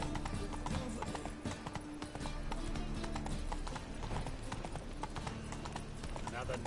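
Roach the horse galloping in The Witcher 3, rapid rhythmic hoofbeats throughout, close and loud, mixed with voices talking.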